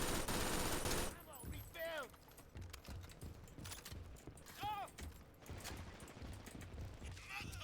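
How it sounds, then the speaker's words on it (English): A mounted machine-gun nest in the shooter game Brink fires a long, steady burst of rapid gunfire, loud at the start and then continuing in dense repeated shots. Other in-game effects sound around it, and a person talks over part of the burst. "It would have been better if I just stood here and fired this gun instead of the mounted nest."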